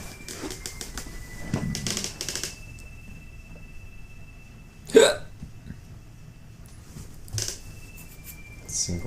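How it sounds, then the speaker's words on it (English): A single sharp hiccup stands out midway through a quiet stretch of Final Fantasy 7 gameplay audio, with faint clicks, chirps and a thin tone around it. "Single hiccup, weird thing."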